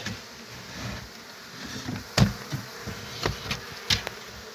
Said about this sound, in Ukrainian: Висипаємо рій цей. Помагаємо йому щоткою.